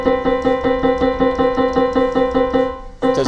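A dissonant interval with a 15/8 frequency ratio: two sustained tones sounding together with a steady rapid beating pulse running through them, loud and continuous, with a brief dip near the end before the tones return.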